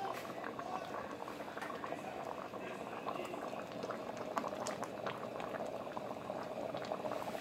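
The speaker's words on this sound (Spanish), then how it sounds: "Ahí está nuestra olla con los frijoles." A pot of black beans boiling, a steady bubbling and gurgling of liquid heard close and moderately faint, continuous throughout.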